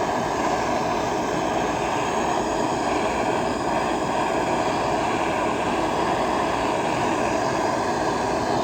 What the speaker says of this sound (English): So I've just got a MAP gas torch at the moment.